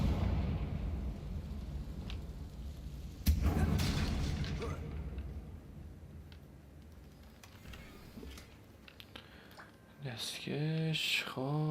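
A Confringo explosive spell in Hogwarts Legacy lands as a sharp blast followed by a rumbling decay over low game ambience, with a voice speaking briefly near the end.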